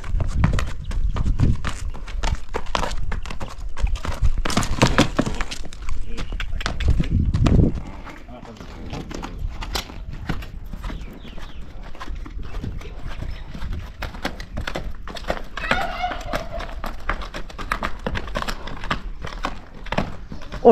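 A horse offered for sale, 168 cm tall, is led back and forth on foot, its hooves clip-clopping in a steady walking rhythm, with people talking nearby throughout.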